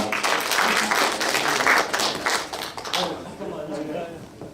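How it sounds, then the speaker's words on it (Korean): Audience applause at a graduation ceremony, a dense burst of clapping from many hands that gradually thins and fades out. "다시 한 번 박수 부탁드립니다."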